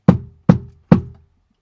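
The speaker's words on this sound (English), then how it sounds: "knock off any air bubbles" Three hollow, evenly spaced knocks on a film developing tank holding 60-year-old Ilford HP3 film, each a sharp thud with a short ringing decay, close and clear with no talking.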